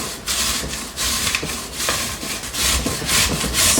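Zucchini being grated by hand, its broad rasping strokes repeating steadily and close up in a loose back-and-forth rhythm, with no talking.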